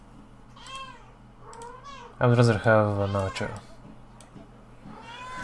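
A house cat meows repeatedly while walking around indoors. One loud, drawn-out, wavering meow stands out, and softer, shorter meows come before and after it, all under a person's speech.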